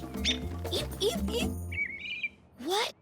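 A cartoon red bird chirps in a short high whistled phrase, preceded by a voice and followed by a louder sweeping call, with speech over much of the scene.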